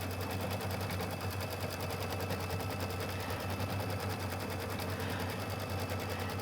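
A sewing machine stitching out a quilt block runs in a fast, steady, even buzz of rapid needle strokes, constant and close without pauses, with no talking over it.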